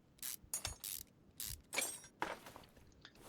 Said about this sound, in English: Let's get these bolts off.